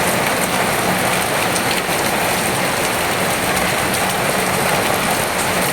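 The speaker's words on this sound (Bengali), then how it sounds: "এখন প্রচুর জোরে বৃষ্টি এসছে।" Heavy rain pours down steadily at close range, a dense, loud, unbroken hiss of drops on surfaces with no let-up and no voices.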